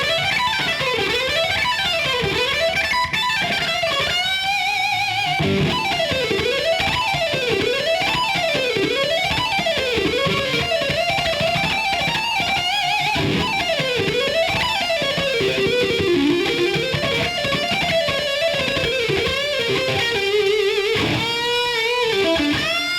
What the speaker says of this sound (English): And I'm just going to play those notes up and down as fast as I possibly can using hammer-ons and pull-offs.